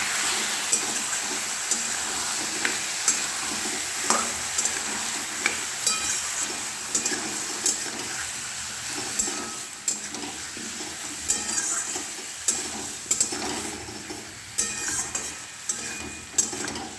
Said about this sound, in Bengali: দেখো ওলকপি ভাজা হয়ে গেছে প্রায়।